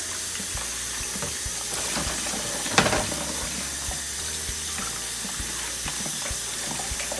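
Coconuts are washed under a running tap, a steady loud hiss of water with scattered knocks and one sharper clatter as the shells are handled in the sink.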